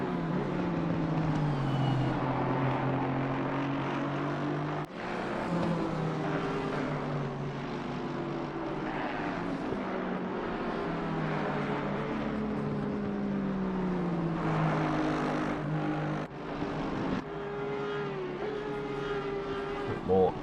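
Engine notes of race cars in Assetto Corsa Competizione sim racing at Kyalami, a Ferrari and Mercedes battling, sustained droning and shifting pitch loud throughout with a brief dip near five seconds.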